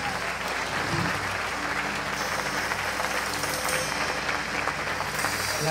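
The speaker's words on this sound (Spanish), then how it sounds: "¿Cuántos pueden dar un fuerte aplauso al Señor por eso?" Congregation in a church service clapping together in sustained, dense applause that holds steady and loud from start to finish, with a faint voice underneath.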